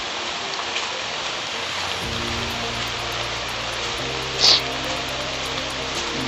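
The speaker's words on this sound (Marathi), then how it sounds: "पाऊस खूप पडतो आहे." Heavy monsoon rain near Zenith Waterfall in Khopoli hisses in a dense, continuous wash, with a low steady drone underneath and a brief sharp click partway through.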